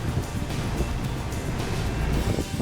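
Car air conditioning blower running on high inside a project car, a steady broadband whoosh of air with engine rumble underneath, continuous and close.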